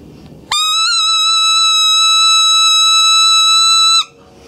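A Crit'R Call predator call blown as a basic squeal: one loud, steady, reedy tone like a kid's party horn, held for about three and a half seconds, then cut off.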